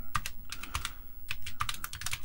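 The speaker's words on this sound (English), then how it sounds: "Oh, this keyboard's not bad to type on." Someone types on a computer keyboard up close, the keystrokes clicking in quick, uneven bursts with brief pauses between runs.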